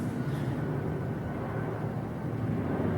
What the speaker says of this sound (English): That sounds like an international plane coming in.